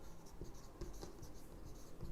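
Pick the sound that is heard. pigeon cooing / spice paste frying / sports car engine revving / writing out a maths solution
writing out a maths solution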